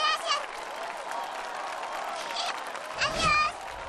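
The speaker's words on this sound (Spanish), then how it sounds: "El aplauso, Bombona." Studio audience applauding and cheering at a Spanish-language masked singing competition show, a steady dense clapping wash throughout with a brief louder swell near the end.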